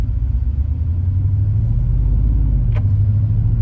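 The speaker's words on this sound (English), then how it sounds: "Putting it in drive, starting off in comfort mode." A 2025 Mercedes-Benz CLE 450 Cabriolet moves off in comfort mode with a low, steady engine rumble heard from inside, smooth and subdued throughout, with one brief faint click midway.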